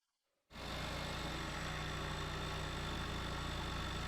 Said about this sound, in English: If we have enough oil in it, let it run once to ensure that the oil circulates through the oil filter.